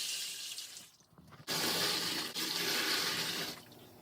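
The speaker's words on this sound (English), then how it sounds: "once I dump the pot, I refill the pot again with water and start the whole process over again" Water gushes loudly into a pot in a bathroom, a bright steady hiss and splash that briefly drops out, then surges back and runs on before tapering off.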